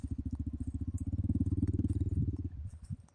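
A motorcycle engine runs close by in a rapid, pulsing chug that grows louder, holds, then fades over about three seconds, with no talking.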